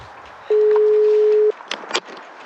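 A single steady electronic tone rings for about a second, followed by brief faint rustling.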